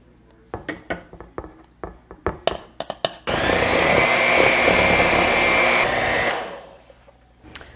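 An electric mixer beats thin loaf cake batter, a loud steady whirring drone for about three seconds that winds down, preceded by scattered clinks and knocks of ingredients going into the bowl.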